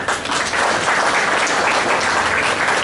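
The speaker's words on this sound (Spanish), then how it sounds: "a quien recibimos con un voto de aplauso" Audience applause welcoming a speaker at a judicial prosecutors' event in Ucayali, Peru: dense, steady clapping from a crowd that holds at full strength for the whole three seconds with no talk over it.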